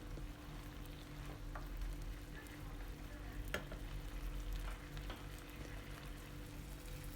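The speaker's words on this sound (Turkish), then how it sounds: "kapağını kapatarak etlerimizi kavuralım" Meat sautés in a covered pot for a Turkish chicken and vegetable orzo pilaf, giving a steady, close sizzle and hiss with a few faint clicks and no talking.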